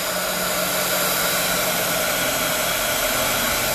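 A heat tool blows hot air onto a blooming flower design, a steady close whooshing roar that holds evenly throughout with no breaks.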